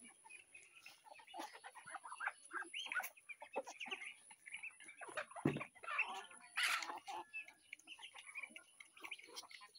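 Chickens, including yellow and red hens and chicks, cluck and chatter in a yard at close range, with irregular bursts of calls and soft rustling throughout.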